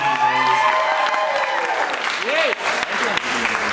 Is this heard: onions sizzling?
no